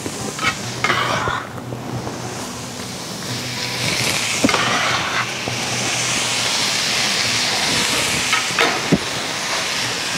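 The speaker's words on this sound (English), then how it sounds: "So pan still sizzling." Steady sizzling and hissing of tomatoes in a hot cast iron pan, with occasional stirring clinks and scrapes, continuous and close.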